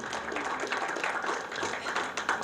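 An audience at an evening literary gathering in Karachi breaks into scattered applause, a dense patter of hand claps at moderate distance lasting a few seconds.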